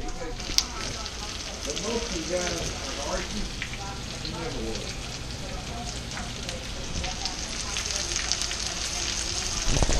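King mackerel pieces coated in cornmeal sizzle and crackle in hot frying oil. The hiss is dense and continuous, with scattered sharp pops, at a fairly quiet level.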